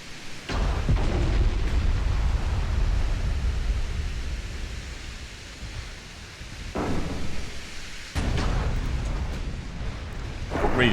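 Naval artillery fire and explosions in a Dip v2 Imperial Austrian campaign game: a steady, loud, roaring rumble broken by two sharp booming blasts partway through.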